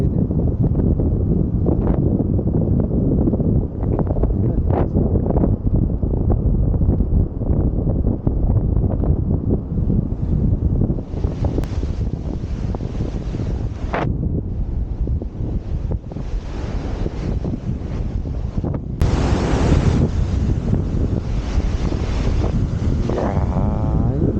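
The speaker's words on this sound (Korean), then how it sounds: "이야 파도 겁나네 겁나" Strong ocean surf crashes continuously along the Sydney coast while gusty wind buffets the microphone, a loud, steady roar of breaking waves with brief bursts of hissing spray.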